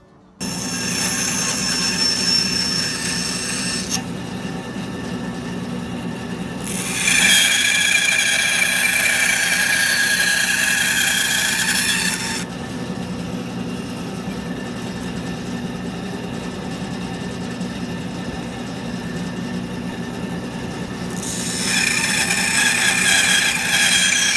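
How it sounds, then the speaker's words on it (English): Bandsaw cutting a block of red cedar for a traditional knife handle, a loud steady machine drone with whining bursts as the blade bites into the wood, no speech. "So we'll do these cuts on the bandsaw"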